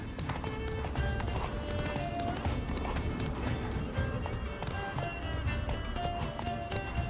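The horse Roach gallops steadily in The Witcher 3, a continuous rapid clip-clop of hooves on the ground, loud and close, with a brief whinny and a voice faintly underneath.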